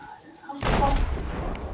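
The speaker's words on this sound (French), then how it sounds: "Il y a une explosion, c'est pas moi." A sudden loud explosion in the pirate video game Sea of Thieves booms in at once and leaves a rumbling, crackling decay that trails off over the next second.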